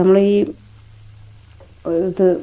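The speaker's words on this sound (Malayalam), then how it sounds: "നമ്മുടെ ഈ എഗ്ഗിൻ്റെ മിക്സർ ഉണ്ടല്ലോ, അത് ഇതിലേക്ക് ഒഴിച്ചു കൊടുക്കുക" Egg batter poured into a hot pan for a bread egg pizza sizzles briefly, with a low frying hiss in between. Tonal bursts open and close the short stretch.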